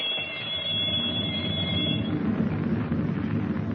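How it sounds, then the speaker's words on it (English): A torpedo-firing alarm bell rings inside a steel-hulled submarine in a radio drama: a steady, shrill electric ringing for about two seconds that gives way to a dense, rumbling mechanical din, with no voices. "the torpedo-firing alarm bell rings through the steel hull"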